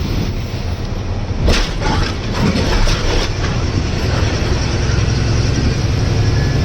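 A container freight train rumbles steadily past close by, a loud continuous roar of rolling wagons with faint rhythmic clatter, no voices.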